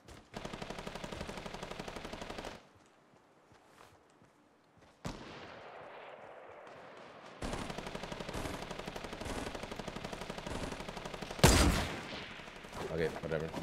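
Rapid automatic gunfire in Fortnite, bursts of fast-repeating shots that stop, fall near-silent, then resume in long sustained strings with one louder crack near the end.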